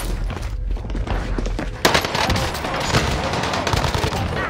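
Dense rapid gunfire in a shooter video game, with a continuous fusillade of loud bursts that sharpen after a sudden crack partway through. No talk is heard.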